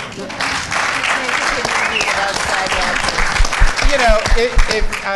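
Applause from an audience at a filmmaking talk, a loud sustained clatter of clapping with voices and cheers mixed in over it.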